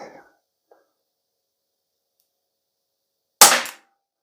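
A compact CO2 blowback BB pistol fires one sharp, loud crack through a chronograph, with a short tail, after near silence with faint handling noises.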